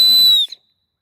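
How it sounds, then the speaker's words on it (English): A whistle blown in the woods ends in a piercing, steady high tone that cuts off sharply, leaving near-total silence. "I'll get the whistle out and give it a try."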